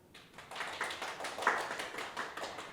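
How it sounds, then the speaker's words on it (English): Applause from a morning session audience at a conference, a fairly faint, dense patter of many hands clapping with a few sharper claps standing out, steady over a few seconds. "would you please give a big round of applause to Ms. Amanda Bennett Rivera"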